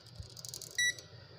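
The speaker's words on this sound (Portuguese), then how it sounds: "Deu esse bip aqui, é porque deu comunicação." A multimeter continuity tester gives one short, clear beep as its probes touch a trace on a laptop display cable, standing out over a quiet background of faint handling noise.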